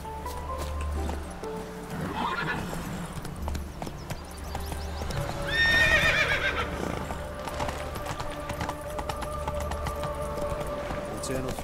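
A horse gallops in The Witcher 3 video game, with steady rhythmic hoofbeats and a loud neigh midway, set against game ambience and a speaking voice.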